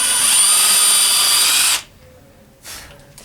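A power drill drives a screw into a climbing wall hold on a home wall, running loud and steady for nearly two seconds, then stopping, with a short faint burst of drilling near the end.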